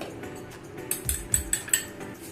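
A spoon stirring turmeric into a little water in a bowl, a few seconds of quiet swirling followed by five quick metallic clinks against the bowl's rim, close by, with no talking.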